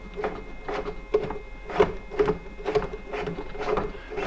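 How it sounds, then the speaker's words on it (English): An Elegoo Centauri Carbon 3D printer loading filament, its motor pulsing in a steady repeating whir of short mechanical bursts, close and moderately loud with no talking. "So I'm loading it into the printer."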